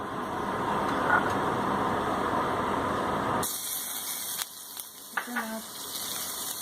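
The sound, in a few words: butter sizzling in a pan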